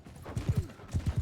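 Hooves clip-clop in quick triplet bursts, two rapid gallop strides close by, with a faint whinny-like tone between them, from a horse in the game Mount and Blade Bannerlord.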